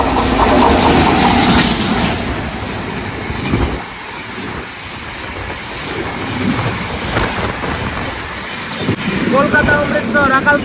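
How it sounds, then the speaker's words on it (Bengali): The Kolkata–Amritsar Akal Takht Express, train 12317, overtakes on the adjacent track, a continuous rumbling roar with rhythmic wheel clatter and wind buffeting, while a voice talks over it. "বন্ধুরা এবার আমাদেরকে ওভারটেক মারবে ট্রেন নাম্বার 12317 কলকাতা অমৃতসর অকাল তখ্ত এক্সপ্রেস।"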